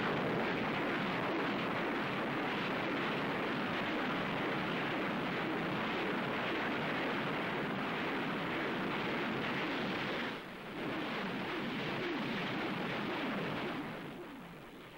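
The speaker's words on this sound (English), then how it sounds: "the Israelis took heavy punishment from the terrible Stalin organs, powerful Soviet rocket launchers with a huge range" Soviet Stalin organ rocket launchers pound positions in a Golan Heights battle of the Yom Kippur War, a dense, unbroken roaring barrage that stays loud throughout with a brief dip near the end.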